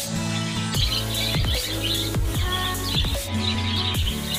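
Pet pigeons in a loft coo and chirp in close, continuous calls that overlap loudly throughout, with no talking.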